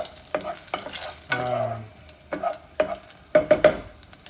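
Chopped onion and beans get tossed in a hot frying pan, giving several scraping clatters over a steady sizzle, close up with no talking.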